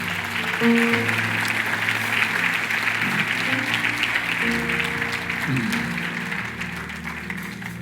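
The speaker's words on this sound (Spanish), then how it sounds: "Dale un aplauso fuerte." Congregation at a church service clapping strongly after a prayer, sustained applause with soft music and organ tones underneath, continuing steadily throughout.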